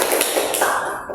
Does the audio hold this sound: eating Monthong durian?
no